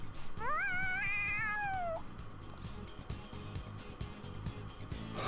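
An excited cat meows in Persona 5 Royal, one long rising and falling meow heard clearly over steady game background sound.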